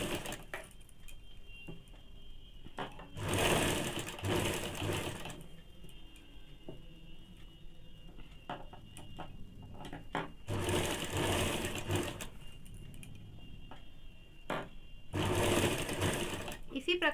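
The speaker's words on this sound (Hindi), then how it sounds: "इस प्रकार से पूरे पैर में हम लोग एक ही नाप से सिलाई चला लेंगे।" Sewing machine stitching the leg seam of baby panties, a soft steady close whirr with several louder fast-running bursts, under quiet talk.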